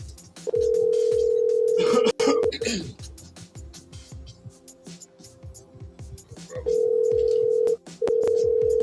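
An outgoing telephone call placed during a live show, with two long steady ringback tones at the start and two more near the end, loud and near, while people talk and laugh in between.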